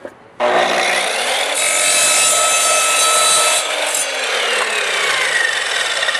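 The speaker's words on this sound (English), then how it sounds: "And here's the plastic piece being cut." An Evolution Rage3 sliding miter saw cuts through a plastic piece, starting abruptly into a loud, sustained high-pitched whine and rasp that holds steady for several seconds, with no talking.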